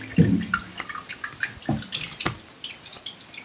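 Water from a submersible pump pours and splashes in a steady, busy wash with scattered drips and gurgles, fairly close, with no talk.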